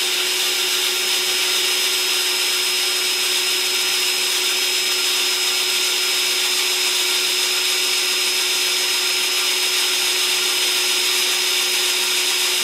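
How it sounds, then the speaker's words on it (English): A steady, loud electric drill runs without pause while boring 3/8-inch holes into a metal mini bike motor mount for a Predator 212 engine, a continuous whine with no talk. "Run your drill slow."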